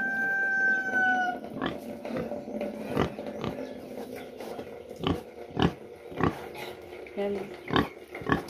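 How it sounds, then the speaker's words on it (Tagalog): Pigs kept on a backyard farm in the Philippines grunt in short, repeated bursts, a series of sharp close snorts spaced through the clip, with people talking and faint chickens in the background. "Sabi ni Lilit, malaki na daw yung baboy namin."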